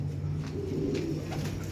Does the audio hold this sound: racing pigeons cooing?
yes